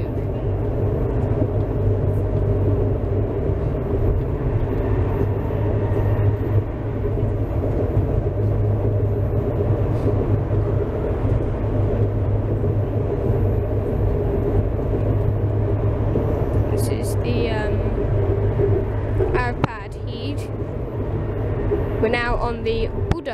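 Budapest tram line 1 crossing a bridge over the Danube, heard from inside as a loud, steady low rumble and hum with faint squeals from the rails late on, and no talk.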